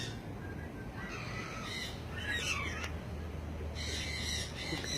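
Several birds, likely crows, squawk and caw in repeated harsh bursts at moderate distance in an outdoor setting in Sarasota, with a steady low hum of background noise underneath.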